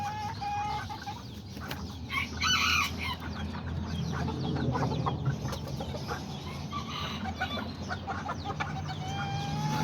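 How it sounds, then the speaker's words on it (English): Serama chickens cluck repeatedly at close range, with a young rooster's call rising among them over a low steady background hum. "Looks like he's gonna be a nice rooster."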